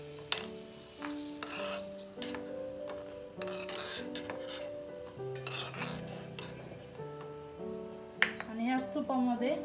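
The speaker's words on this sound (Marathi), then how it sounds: "तर ते तळून घ्यायचे तुपामध्ये गोल्डन ब्राऊन होईपर्यंत" Food frying in ghee until golden brown for caramel rice kheer, a steady soft sizzle with stirring and occasional utensil clinks, while a person talks over it.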